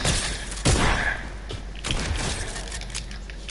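Video game gunfire crackles in a few sharp bursts, a loud volley near the start and scattered shots afterward over a low background rumble.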